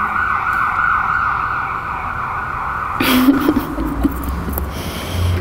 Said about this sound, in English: And when an ambulance is going by.